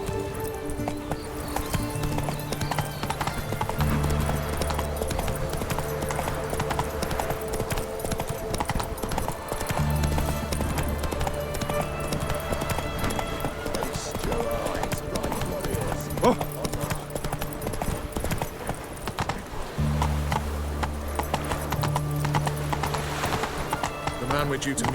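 The horse Roach gallops in The Witcher 3: Wild Hunt, with rhythmic hoofbeat clip-clops running continuously and a whinny, under game music and a voice speaking.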